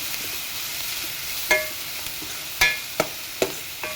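Grated carrots frying in a pan for bread masala toast, giving a steady, soft hiss of oil with a few sharp spatula taps and scrapes against the pan, heard close and without voices.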